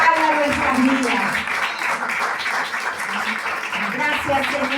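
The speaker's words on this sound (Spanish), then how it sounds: "Denle palmas al Rey, iglesia." A church congregation applauds during a sermon in a continuous wash of clapping and voices that is loud and sustained, with some shouting mixed in.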